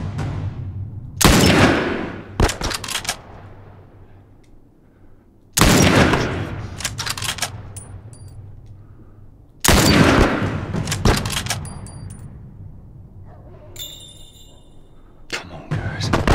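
Gunfire in The Last of Us Remastered on PS4 Pro comes as three loud, sharp bursts of shots, each trailing off into a decaying rumble, with a voice talking between them.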